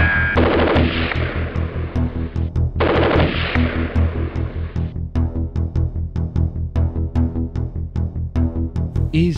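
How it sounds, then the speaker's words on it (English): Rapid bursts of gunfire sound effects in a toy army men stop-motion battle, with two long sustained machine-gun volleys followed by a steady run of sharp single shots, loud and close throughout. "Covering fire."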